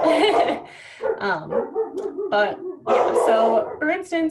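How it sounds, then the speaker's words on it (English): A dog barks in short bursts somewhere downstairs, heard faintly beneath a person talking throughout. "sorry, that's my dog downstairs"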